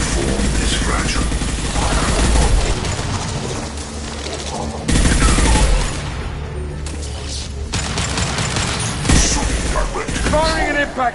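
Sustained gunfire in a PS4 video game, dense bursts and shots crackling loudly for the whole stretch, with a game voice speaking over the shooting.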